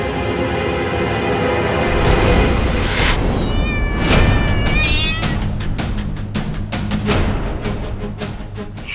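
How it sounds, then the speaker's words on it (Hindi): A cat meows loudly and close by in a string of drawn-out, wavering cries, then shorter, more rapid meows near the end. "हे नागुमी देव, बिल्ली"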